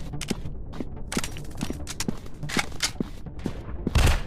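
Rapid gunfire from a counter-terrorist first-person shooter game, like PUBG: dense, overlapping shots and bursts that crack out repeatedly in a fast, uneven rhythm, close and loud, over a steady busy background.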